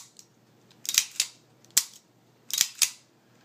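A 1911 pistol gets a function test: a handful of crisp metallic clicks and snaps from trigger and slide, some in quick pairs, sharp and close in a quiet room.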